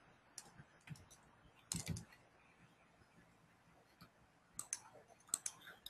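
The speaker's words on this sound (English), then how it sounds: "now I'm clicking the F2 button from my keyboard" Keys pressed on a computer keyboard produce scattered sharp clicks and short clusters of taps, quiet and close, with long gaps between them over faint room noise.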